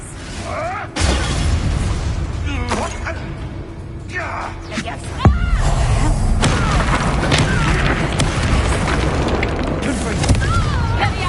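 A Confringo spell explosion in a video game: a sudden booming blast bursts out of a loud, dense mix of game effects and music, with voices heard throughout.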